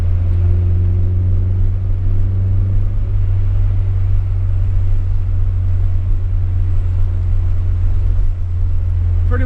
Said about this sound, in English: Pretty much just driving it right now at this point